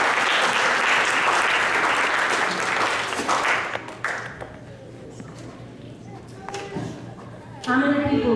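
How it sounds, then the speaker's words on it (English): Audience applause at a church Youth Day gathering for a guest speaker, loud and sustained for about four seconds, then thinning into scattered claps and room noise before voices return at the end. "Let's give Cierra another round of applause."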